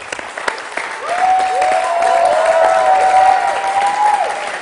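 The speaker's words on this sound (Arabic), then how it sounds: "تصفيقة" Sustained audience applause in a theater, swelling and holding steady with a faint tonal whistle or musical note running through it.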